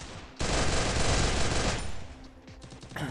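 Automatic gunfire in the mobile shooter game Free Fire, a dense rapid burst that starts abruptly, rattles on loudly for about two seconds, then tapers into scattered shots.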